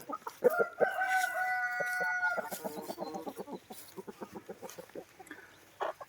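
Chickens cluck in quick, uneven bursts close by, while a rooster lets out a clear, drawn-out crow near the start, all in a quiet outdoor farmyard setting.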